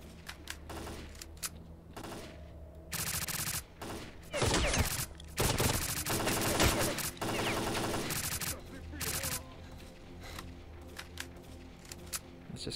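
Automatic weapon fire from the S.T.A.L.K.E.R.: Clear Sky shooter game, loud bursts of rapid shots repeating over several seconds with short gaps between volleys.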